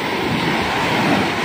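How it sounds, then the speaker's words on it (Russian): Steady broadband wash of sea waves breaking on a beach, continuous and fairly loud with wind buffeting the microphone, no voices. "Ой, море, мое спасение."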